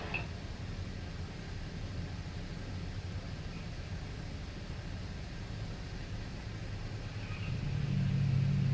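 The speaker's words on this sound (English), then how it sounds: "The rest of the field starting to spread out behind him here on about the second lap of this C Superstock novice race" Superstock motorcycles in a novice road race at Barber Motorsports Park, heard as a steady distant engine drone and road rumble that swells into louder, nearer roaring toward the end.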